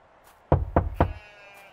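Three sharp, close knocks on a wooden door in the video game Lost Chronicles of Zerzura, evenly spaced about a quarter second apart, set against near silence.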